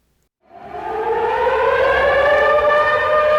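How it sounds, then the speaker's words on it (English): A civil defense siren sounding across a city during evacuations starts after a brief silence and swells into a loud, sustained wail that holds steady. "Sirens started blaring around the city."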